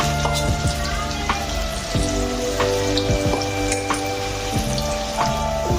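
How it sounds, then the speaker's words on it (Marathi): Chinese bhaji pakoras sizzle steadily in hot oil over a medium gas flame, a dense close-up crackle and spatter with soft popping bursts and no talking. "ही भजी तुम्ही मीडियम गॅसवरती तळायची आहे."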